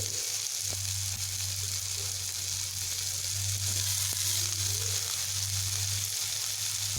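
Pumpkin pieces and bitter gourd fry together in a pan, giving a continuous soft sizzle under a low steady hum, with a few faint clicks from the utensil.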